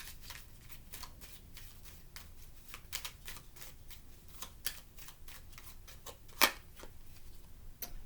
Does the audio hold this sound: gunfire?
no